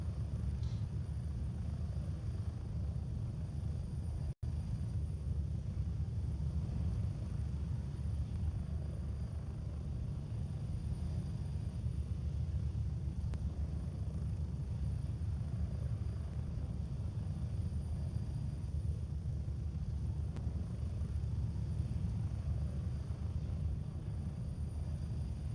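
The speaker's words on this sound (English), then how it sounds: "my Uncle Mark's lucky, he's got to see me on his chopper twice in a minute" A military helicopter flies in the game Gray Zone Warfare, giving a steady low engine and rotor drone that holds constant and fairly quiet throughout, broken by a single brief click.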